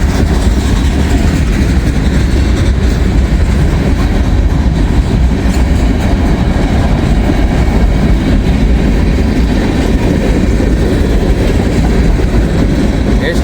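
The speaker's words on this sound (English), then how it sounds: "Boxcars, man." Freight train boxcars roll past close by in a loud, continuous rumble with rattling steel and a steady clatter of wheels on rail that holds unbroken throughout, no voices.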